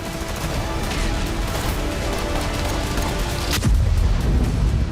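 Explosion at an electrical power substation in Kemerovo, Russia: a sustained, noisy rumble ending in a sharp, loud boom with a heavy low thud.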